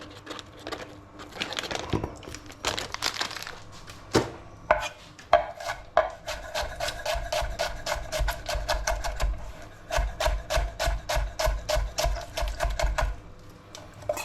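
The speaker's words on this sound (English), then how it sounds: "that's my onions diced" Onions diced with a knife on a cutting board, with irregular taps at first, then a quick, even run of close, crisp chops.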